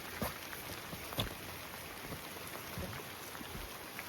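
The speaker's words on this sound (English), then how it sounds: "Well, today it's raining." Steady soft patter of rain falling outdoors, faint and continuous, with occasional louder drips.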